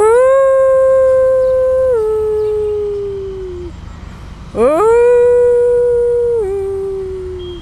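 A voice imitating a jackal howling, two long, loud, wavering howls that slide downward in pitch, the second rising sharply before holding and falling, alone without other talk.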